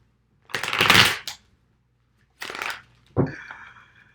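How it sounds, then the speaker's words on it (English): Tarot cards being shuffled by hand in three separate bursts: a long riffle, then a shorter one, then a final quick flutter, each close and crisp against a quiet background. "Let me shuffle this one more"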